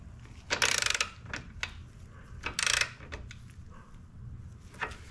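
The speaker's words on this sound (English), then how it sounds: "Now that that axle is torqued down, check the tension." A ratchet wrench tightens a motorcycle axle nut in two quick bursts of rapid clicking, with a few scattered mechanical clicks and taps between them, close by and fairly quiet.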